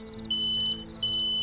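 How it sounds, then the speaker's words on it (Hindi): A smoke alarm goes off inside an apartment, giving two shrill, high-pitched electronic beeps in steady succession over a quiet background. "बस 5 सेकंड में अपार्टमेंट के अंदर स्मोक अलार्म बज उठा"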